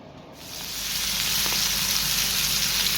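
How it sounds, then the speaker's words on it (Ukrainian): Fish frying in oat flour in a pan during breakfast prep at home, a steady close sizzle that swells after a brief quiet start and holds evenly throughout. "підсмажую рибку на вівсяному борошні"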